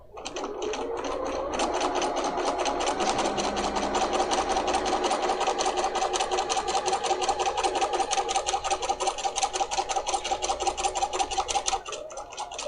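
A Bernina 300 series sewing machine runs continuously during free-motion quilting, a close, steady rapid stitching hum with faint ticking that fades near the end, no speech.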